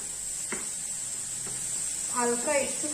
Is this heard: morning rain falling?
no